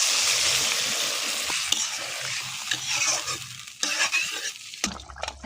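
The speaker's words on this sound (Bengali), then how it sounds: "এখন পানি দিয়ে নেব" Water poured into a pan of sizzling tomato masala for a Bengali puti fish curry with eggplant and potato, a loud hiss and frying crackle that gradually settles into bubbling and stirring sounds.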